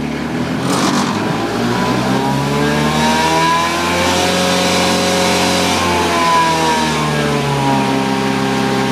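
Mulch blower engine running steadily at a loud, close roar, its pitch rising slightly and then settling around half throttle, with no talk over it.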